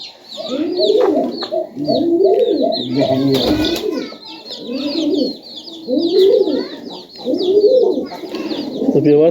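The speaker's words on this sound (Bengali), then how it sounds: "এটি হচ্ছে বাটেরা কবুতর" Butera pigeons coo in a loft in repeated rounded phrases, close and fairly loud, with chirps and a brief burst of flapping or rustling partway through.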